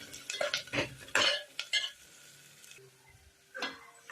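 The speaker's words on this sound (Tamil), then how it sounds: "2 காஞ்ச மிளகாய் போட்டு நல்லா பொன்னிறம் ஆகிற வரைக்கும் வதக்கி விடணும்" Crushed garlic and two dried red chillies sautéing in a pan make a quiet, faint sizzle under a handful of brisk spatula scrapes and clinks against the pan, clustered early and again near the end.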